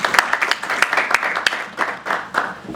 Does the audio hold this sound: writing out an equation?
no